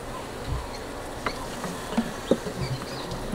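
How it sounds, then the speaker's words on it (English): Faint, steady honey bee buzzing on a hive frame with a few brief knocks and taps, close by and fairly quiet, no talking. "this frame's got quite a lot of bees on it"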